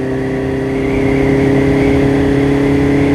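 A Honda CB650R inline four-cylinder mid-size motorcycle engine held at a steady, smooth hum, rising slightly in level after the first second, close and loud with no voices.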